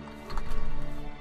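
A horse in the Minecraft video game, a brief close sound with a soft thud of hooves, heard alone for about a second.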